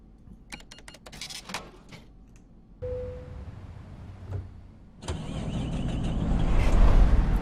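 Freightliner Argosy truck in American Truck Simulator cranks with a short starter whine, then the engine catches and settles into a loud, steady idle rumble that grows fuller toward the end, with clicks and switch noises before it.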